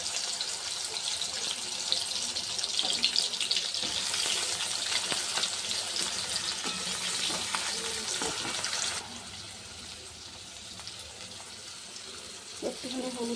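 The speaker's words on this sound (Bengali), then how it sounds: "বেগুনটাও ভেজে নিই" Eggplant frying in hot oil in a pan, a bright hissing sizzle that drops to a softer level partway through, with occasional stirring clinks.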